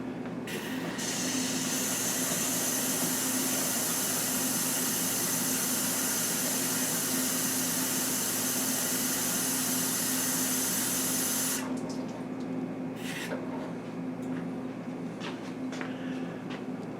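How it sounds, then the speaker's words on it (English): Water pours steadily into a slow cooker of 15-bean taco soup, a continuous hissing rush that stops abruptly near the end, leaving a few faint clinks. "This is water going in."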